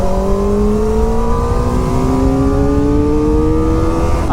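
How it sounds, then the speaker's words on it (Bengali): A Kawasaki Ninja ZX-4R 2024 with its inline-four engine and stock exhaust drones loudly and close, its pitch rising smoothly and steadily as the bike accelerates, with no talk over it. "আর ভাইয়ের বাইকে এখন স্টক এক্সস্ট লাগানো, সে কারণে অতটাও লাউড নয়, তাও ইনলাইন ফোরের সাউন্ড ভাই অসাধারণ"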